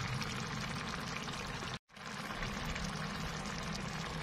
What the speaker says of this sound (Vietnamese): Mình cho đây một muỗng canh nước mắm.